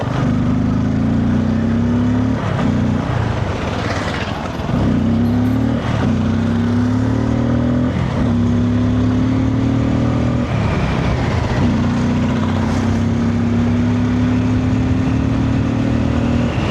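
A vehicle cruises at about 40 with a steady engine hum under rushing wind noise, and brief bumps and thumps break in every couple of seconds. It sounds close and loud throughout, heard through a wireless camera mic.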